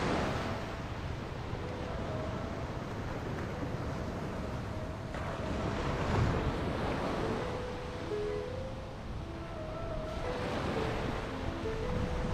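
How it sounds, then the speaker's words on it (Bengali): Sea waves roll steadily where the Maheshkhali channel meets the ocean near Cox's Bazar, a continuous broad wash of surf mixed with wind rumble on the microphone, with no talking. "এই জায়গাটি হলো সমুদ্র আর মহেশখালী চ্যানেলের সংযোগ, তাই পানির ঢেউ একটু অন্যরকম।"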